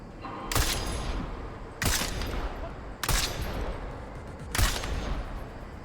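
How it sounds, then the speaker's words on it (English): Four loud sniper rifle shots in Deus Ex: Mankind Divided crack out at irregular intervals, each a sharp broadband blast with a ringing tail over a steady background rumble. "Okay, then sniper rifle, direct hit"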